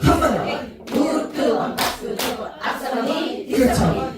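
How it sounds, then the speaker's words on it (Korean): Knee slaps and hand claps from a recreation clapping game, a busy rhythmic run of close, loud smacks and claps, with voices chanting along over the beat. "무릎 두 번 박수 두 번 찍고 찍고 이렇게 시작"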